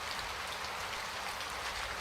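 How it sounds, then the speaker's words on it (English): Heavy rain pounds on a truck roof in a dense, steady hiss with no break, close and loud. "The rain pounded on the roof, drowning out any sound except the steady thud of the wipers."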